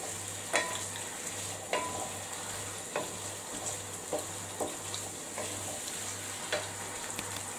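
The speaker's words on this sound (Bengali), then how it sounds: "ঢেঁড়সটা দু মিনিট ভেজে নিব।" Okra fries in a pan with a steady, fairly quiet sizzle, punctuated by spatula scrapes roughly every second and a low hum underneath, heard close without any voices.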